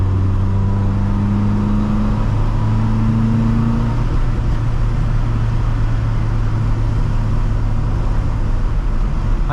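The engine of a 1965 Volvo 544 with a four-speed gearbox, heard from inside the car while driving. A steady, loud, low engine drone with humming tones runs throughout, with no talking.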